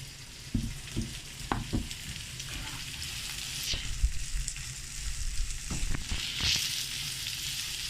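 Chopped onions go into a pan of hot oil, a steady close sizzle with occasional stirring clatters and soft knocks of a utensil, no voices.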